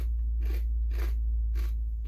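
Doritos Flamin' Hot Queso Dynamita chips crunch between the teeth in three close, crisp bites spaced about half a second apart over a low steady hum.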